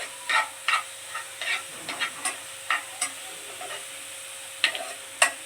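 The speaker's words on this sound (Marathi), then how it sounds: "ऑरेंज कलर येईपर्यंत त्याला भाजायचं आहे" Grated fresh coconut roasts in a dry pan until orange, heard as a soft background sizzle broken by a dozen sharp, irregular spatula scrapes and stirs close to the pan.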